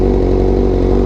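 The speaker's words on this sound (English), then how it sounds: "Yeah, the bike is warmed up now" A warmed-up superbike engine idles close by, a loud, steady, even rumble that holds without any revving.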